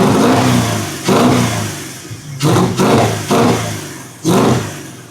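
A Porsche 986 Boxster track car with a swapped-in V8 engine revs hard five times in quick succession, each loud throaty blip dropping back toward idle between them.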